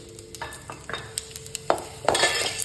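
Spices dry-roasting in a pan are stirred with a utensil, giving a low crackle broken by sharp clinks and scrapes that grow more frequent toward the end, with no voices.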